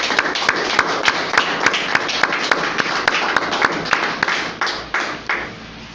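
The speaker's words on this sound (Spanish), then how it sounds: "Vamos a darle un aplauso ahí en casa" A congregation at a church service applauds in a steady run of sharp, rhythmic claps, loud and close, which fade away toward the end.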